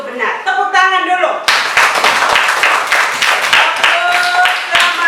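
A class of children in an Indonesian primary school lesson claps hands together, loud and close, with a few sung or chanted voice tones before the clapping starts and voices continuing over it.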